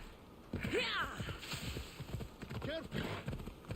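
Hooves clip-clop in a steady walking rhythm in Assassin's Creed Odyssey, fairly quiet, with a faint whinny-like tone rising twice over a soft background hum.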